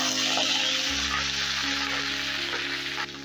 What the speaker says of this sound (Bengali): এবারে দিয়ে দিচ্ছি পেঁয়াজকলি,